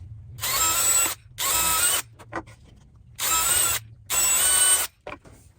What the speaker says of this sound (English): I just pre-drill a couple of holes in each of my little brackets that I'm making.